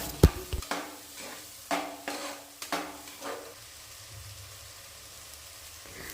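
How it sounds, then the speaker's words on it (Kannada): Soaked rice frying in ghee is stirred in a pan, a few soft scrapes and taps of the spoon against the pan over a faint sizzle, then a quieter tail, close and gentle with no talk. "ಇದನ್ನೆಲ್ಲ ತುಪ್ಪದಲ್ಲೇ ಫ್ರೈ ಮಾಡ್ಕೊಳ್ಳಿ."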